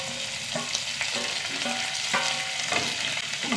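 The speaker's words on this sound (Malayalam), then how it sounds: "ഇഞ്ചി ഒന്ന് നന്നായി വഴറ്റിയെടുക്കണം കേട്ടോ" Ginger and finely chopped green chilies sauté in a hot pan with oil, giving a steady, close sizzle broken by a few scrapes of stirring, with no voices.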